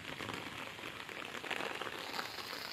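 Soft, steady patter of rain falling on an algae-covered village pond, a faint, even hiss of drops with no talking.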